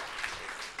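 Audience applause at a live Ignite Ithaca talk event, a brief, even wash of clapping from a crowd, fairly quiet and distant with no talking over it.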